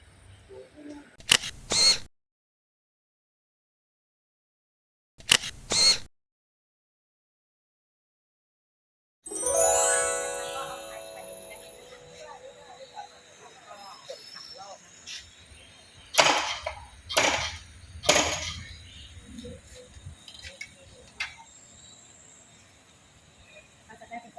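A hand press stamps Buddha amulets at a temple in Nonthaburi, Thailand, giving sharp, separate mechanical clacks: two isolated hits early on, then a busier stretch of clanks and rattles further on.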